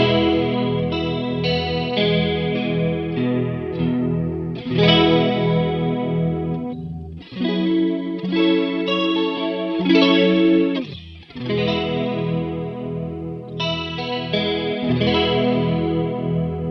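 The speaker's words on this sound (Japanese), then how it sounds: "エフェクト音かけた音だけ聞いていきたいので、これウェットの方で、いきたいなと思います。" Electric guitar through a Free The Tone Tri Avatar TA-2H chorus pedal, heard wet only, plays a steady run of chords and arpeggios with a shimmering, wavering swirl. The sound is close and continuous, with no talking.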